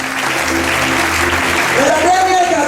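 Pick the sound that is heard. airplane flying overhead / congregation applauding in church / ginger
congregation applauding in church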